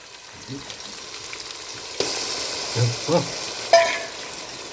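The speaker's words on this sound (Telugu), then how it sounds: "ఇవన్నీ కలిపి ఇప్పుడు ఈ తిరువాతలోకి వేసుకుందామండి" A ground paste of green chillies, garlic and salt is tipped into a hot frying pan. Quiet at first, the pan suddenly erupts into a loud, close sizzle, followed by a few soft scraping stirs.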